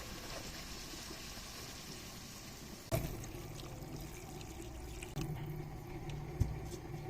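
Water is poured into a pot of chicken and tinda (round gourd) curry, a steady low pouring and trickling wash with a few louder splashes and clunks partway through.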